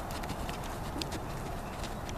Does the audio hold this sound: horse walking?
yes